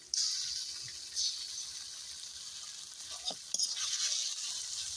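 Onion paste going into a pan of frying spice pastes with garlic, a soft wet sizzle and stirring scrape with a few brief clatters, fairly quiet and with no voices.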